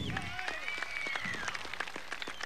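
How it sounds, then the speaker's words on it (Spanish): Applause and cheering for the president at a rally where a farmers' fertilizer bonus is handed out, crowd clapping heard at moderate distance beneath continuous tonal sound and voices. "¡Aplausos, hermanos!"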